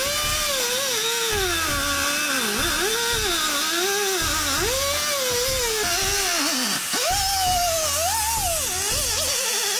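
A power tool cuts around the threaded body tube of an ACOS Pro adjustable front coil spacer with hydraulic bump stop for a Jeep Wrangler JL, a loud steady whine that rises and dips in pitch under load, close and continuous, with no talk.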